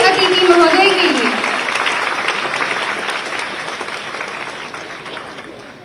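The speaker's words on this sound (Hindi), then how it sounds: "कृपया जोरदार तालियां हमारे माननीय मुख्य अतिथि महोदय के लिए।" A school crowd in Bhopal applauds loudly to welcome the chief minister, with a voice speaking over the opening moments before the dense clapping gradually fades.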